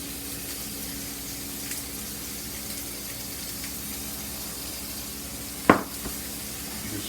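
Steaks searing in a skillet on high heat, a steady broad sizzle running throughout, with one sharp click or clatter near the end.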